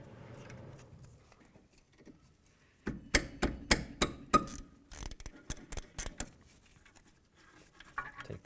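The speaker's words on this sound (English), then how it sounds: "With a 14mm, I'm going to remove these 2 bolts here" A 14mm wrench loosens and removes the two rear brake caliper slider pin bolts on a 2005-2009 Chevy Equinox, giving a run of close, sharp metallic ratcheting clicks in quick bursts after a quiet start, with no talking.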